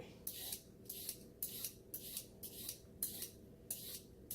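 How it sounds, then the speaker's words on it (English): A vegetable peeler scrapes along vegetables for green juice in about eight regular strokes, each a crisp rasping swipe, close and quiet with no talking. "It's literally just like 5 minutes of me peeling vegetables"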